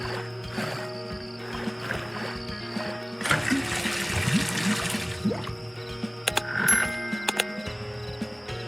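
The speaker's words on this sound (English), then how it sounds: "I'll use the bucket for what it was designed for, to be filled with water." A bucket is filled with water in the video game Dead Synchronicity, with gurgling, splashing pours over a steady ambient hum, a louder rush in the middle and small knocks and clinks after.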